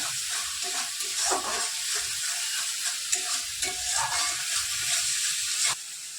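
Garam masala sizzles in a frying pan while being stirred, giving a steady crackling hiss broken by repeated scraping strokes of a spoon, fairly close, with no talking.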